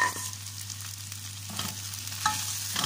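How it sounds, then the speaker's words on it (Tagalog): Carrots and mixed vegetables frying in a pan, a close, continuous sizzle over a low steady hum, with a couple of light utensil clinks and no talking. "Ilagay na natin yung ating gulay. Unahin natin yung ating carrots kasi yan ang matigas."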